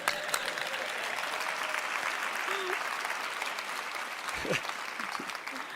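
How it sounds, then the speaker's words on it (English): A SIGGRAPH 2024 keynote audience claps and cheers in a sustained burst of applause filling the hall, with a voice speaking over it partway through. "Hey, a little applause, you guys."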